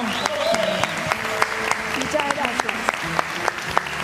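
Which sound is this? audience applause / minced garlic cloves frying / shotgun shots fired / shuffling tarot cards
audience applause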